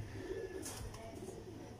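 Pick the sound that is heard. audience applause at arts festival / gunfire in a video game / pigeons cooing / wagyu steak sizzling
pigeons cooing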